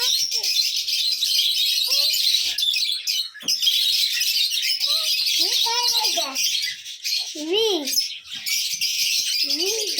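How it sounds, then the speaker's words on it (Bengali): Caged birds squawk and chirp close by, a dense, continuous high chatter with repeated sharp calls rising over it. "কি সুন্দর পাখিগুলো খাঁচার মধ্যে এপার থেকে ওপারে দৌড়াচ্ছে, কি সুন্দর কিচিমিচি করছে"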